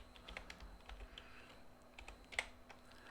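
Quiet, close clicking of keys on a computer keyboard, a run of light irregular keystrokes with one sharper tap near the end, against a low steady hum.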